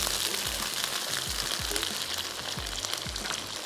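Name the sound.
okra and green chillies frying in oil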